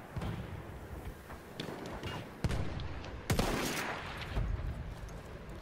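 Gunfire in Battlefield 1, with sharp, loud shots cracking at irregular intervals over a dense backdrop of distant battle noise and scattered rattling fire.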